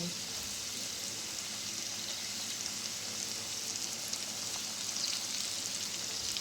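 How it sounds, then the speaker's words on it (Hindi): Chicken hot shots for KFC-style crispy tenders fry over a low flame, giving a steady, even sizzle and crackle of oil throughout, close and continuous, with no talking. "फ्राई बिल्कुल लो फ्लेम पे, चिकन कच्चा है ना, वो अच्छी तरह कुक हो जाए।"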